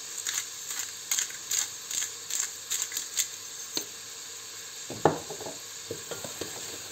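Onion sweats with salt in a pan for chicken and vegetable soup, with a low sizzle under a run of quick, sharp utensil taps and scrapes, then one louder clatter near the end.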